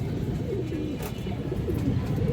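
Red chulli pigeons of a road line breed cooing continuously at close range, a steady low murmur layered from several birds with no talk.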